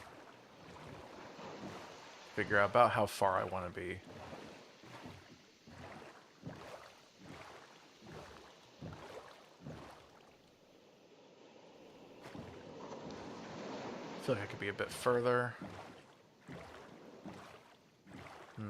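A boat in the video game Minecraft glides across open water, a soft continuous wash of waves and wind carrying rhythmic paddle splashes, with someone talking casually over it.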